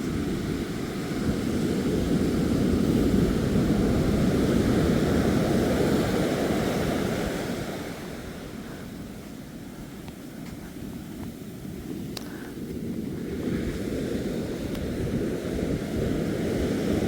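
Ocean surf washing up on Ōakura Beach, a steady broad roar of breaking waves that swells and eases over several seconds, heard close with some wind noise, no talking.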